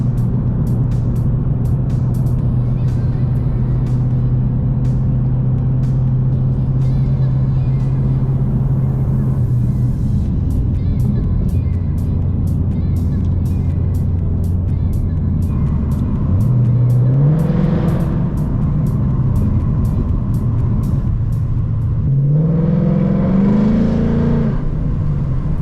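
A Ford Mustang GT350 heard from inside while driving at dawn: a loud, steady engine drone with gear changes and two rising revs as it accelerates, continuous throughout.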